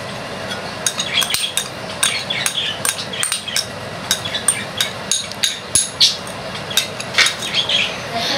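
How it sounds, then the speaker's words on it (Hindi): Chicken spring roll filling with chaat masala, crushed red chilli, salt and soy sauce is mixed in a bowl, a utensil clinking and scraping in a steady run of sharp, close taps with no talking. "अब जो हम लोग इसको सबको मिक्स करेंगे"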